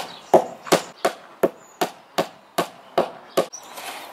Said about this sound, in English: hammer it a little bit more so that it holds it up tight